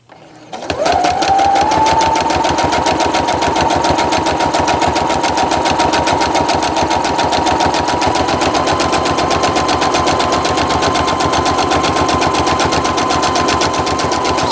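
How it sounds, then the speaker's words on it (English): A sewing machine runs a fast, steady, continuous stay stitch along the edge of a fabric bowl cozy, loud and close with no pauses. "I like to do a little bit of a stay stitch."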